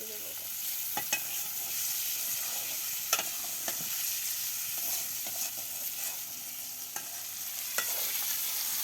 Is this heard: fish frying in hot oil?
yes